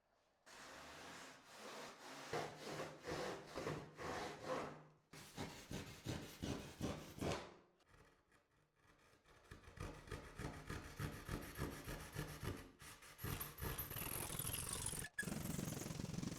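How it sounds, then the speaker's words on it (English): Hand saw cutting the outline of a foam surfboard blank, rhythmic back-and-forth strokes in several runs with brief pauses, close and steady. "You don't need to twist your saw to go directly to the line of the nose."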